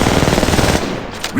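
Rapid automatic gunfire in the Apex Legends Mobile battle royale, loud, close, evenly spaced shots in a continuous burst that tapers off near the end.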